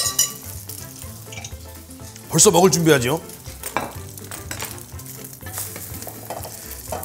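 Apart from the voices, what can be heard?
milk-soaked bread frying in cooking oil for French toast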